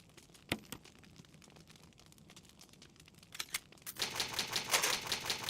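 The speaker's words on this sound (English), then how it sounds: "Typewriter." A typewriter saves the game in Resident Evil, a rapid run of mechanical key clacks that grows louder and denser toward the end, with no voices.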